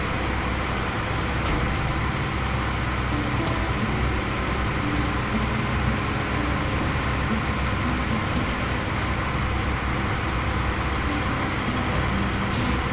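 Road traffic noise: a continuous broadband roar of trucks, buses and cars, with occasional faint hiss bursts like air brakes, steady and fairly loud throughout, no voices.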